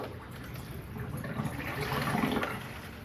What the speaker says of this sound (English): before we plug in the filter again, it's a good idea to just pump some water